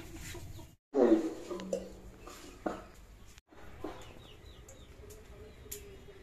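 Chicks and hens cluck and peep in a farmyard, with a louder burst of clucking near the start and softer chirps after, close by and alone.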